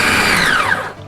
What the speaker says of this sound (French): On va aussi râper les oignons.